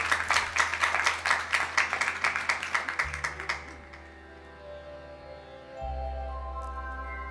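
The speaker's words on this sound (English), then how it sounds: "Let's give Pandit Jageshwar ji a lovely round of applause." A round of audience clapping at a Shrimad Bhagwat Katha religious gathering, rhythmic and fairly loud for about three and a half seconds, then fading out into a low steady hum.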